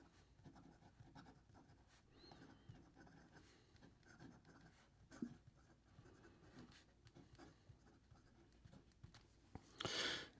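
A Montegrappa 007 fountain pen with a 14 karat gold nib scratches softly across paper in faint, intermittent strokes, ending with a brief louder rustle.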